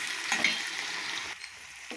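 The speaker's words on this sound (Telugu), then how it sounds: "ఇది ఫ్రై చేయాలన్నమాట" Onions and green chillies frying in oil with mustard seeds and urad dal, a steady close sizzle that crackles and hisses for the full two seconds, briefly easing toward the end.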